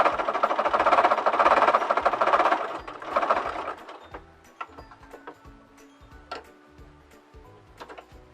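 A sewing machine stitches fabric for a Christmas elf project, whirring steadily for about three seconds, then falling to quieter intermittent clicks and handling noises as the presser foot is lifted and the work adjusted.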